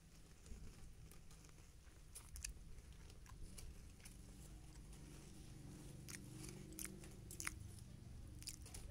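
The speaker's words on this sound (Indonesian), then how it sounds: "Kita coba untuk segi rasa crackersnya" Crunchy Munchy's Lexus chocolate cream crackers being bitten and chewed close up, with soft repeated crunches and mouth sounds over a steady low background hum, no talking.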